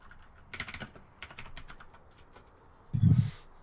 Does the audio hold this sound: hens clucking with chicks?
no